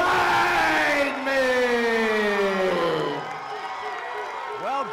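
A large arena crowd cheers and roars as fighter Chris Weidman, from Baldwin, Long Island, in red and black trunks, is introduced; loud sustained crowd noise with an announcer's drawn-out voice over it, easing slightly toward the end.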